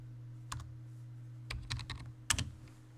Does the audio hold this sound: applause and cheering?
no